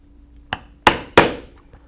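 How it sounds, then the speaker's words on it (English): Three sharp hammer strikes on a 1/8 inch hole punch driving through leather, spaced unevenly, close and loud, each ringing briefly before fading. "I'm using a 1/8 inch punch"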